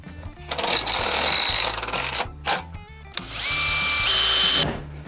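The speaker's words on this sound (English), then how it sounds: "it is easiest just to go ahead and pre-drill a hole before he runs a screw in" A power drill whines in two long bursts while pre-drilling a hole in metal for a screw, pitch rising as the bit bites, with a brief pause and a short blip between them.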